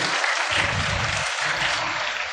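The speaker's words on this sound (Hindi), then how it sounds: "भरपूर तालियां जी" A studio audience at a Ramzan iftar quiz broadcast in Pakistan bursts into steady applause, a dense wash of clapping that holds at a constant level for a couple of seconds with no talk over it.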